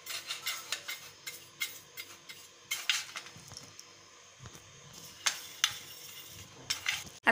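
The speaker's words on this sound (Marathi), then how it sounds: "इडली तयार करण्यासाठी आता मी सर्वात आधी हे सगळे भांडे ऑइलनी ग्रीस करते" Idli steamer plates being greased with oil, heard as a series of light metallic clinks and scrapes of the plates and utensils handled close by at an irregular rhythm, with no voices.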